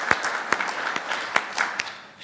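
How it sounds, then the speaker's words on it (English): Sparse applause rises from an audience at a charity auction event, individual sharp claps spaced out in an uneven rhythm, moderately loud and close, with no voices over it. "big round of applause"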